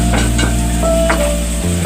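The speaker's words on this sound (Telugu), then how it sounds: "ఈ ఉల్లిపాయల్ని బ్రౌనిష్ కలర్ వచ్చే వరకు వేయించుకుందాం" Onions frying in a pan until brown, a steady loud sizzle close up with occasional stirring scrapes and no voices.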